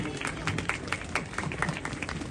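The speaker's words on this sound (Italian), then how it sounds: "chiedervi un grande applauso per gli alpini e tutti i volontari che hanno lavorato" A crowd in a town square applauds the alpini and volunteers, with dense, continuous clapping heard from a moderate distance and a few louder bursts along the way.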